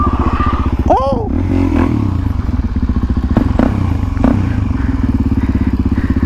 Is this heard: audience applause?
no